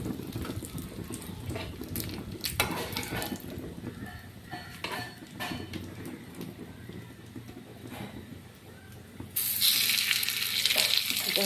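Paneer paturi, paneer wrapped in leaves, fries in a pan with a steady, soft sizzle that swells into a louder, brighter hiss near the end.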